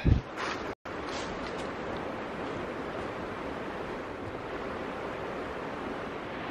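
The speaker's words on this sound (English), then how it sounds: "This is a beautiful river, the Horse Pasture River." The Horse Pasture River in the North Carolina foothills rushes steadily, a broad, continuous roar of flowing water heard up close after a brief knock at the start.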